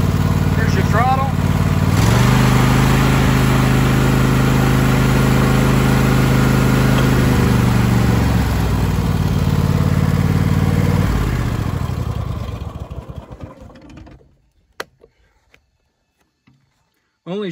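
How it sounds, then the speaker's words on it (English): The 22 hp Kohler engine of a Cub Cadet XT2 LX42 lawn tractor runs with a loud, steady idle rumble and mechanical clatter, then winds down and shuts off, leaving near silence with a few clicks. "This Cub Cadet features a 22 horsepower Kohler engine."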